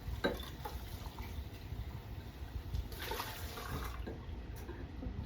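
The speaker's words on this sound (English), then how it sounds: "I'll rinse that." Tap water runs steadily into a kitchen sink while kitchen items are rinsed, a continuous low wash of flowing water with soft clinks and splashes over it, close by, with no talking.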